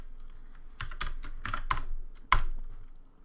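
Computer keyboard typing in short bursts of a few keystrokes, with a sharper louder tap near the end, close and clear with no talking.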